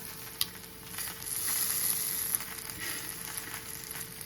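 Bacon sizzling on a griddle after about eight minutes of cooking, a steady close hiss and crackle with a few sharp pops, carrying on alone without talk.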